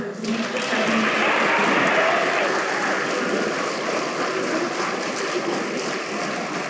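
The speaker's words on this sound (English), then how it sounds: "a round of applause for the new members of the Queen's Academy" An audience at a 2024 NHS induction ceremony claps for new Queen's Academy members: a dense, sustained wash of many hands, loud and steady throughout and easing slightly toward the end.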